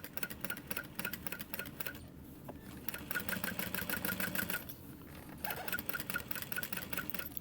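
A sewing machine stitches a 1/4 inch seam on a sunglasses case, a fast even mechanical rattle running close and steady, with two brief pauses before it resumes.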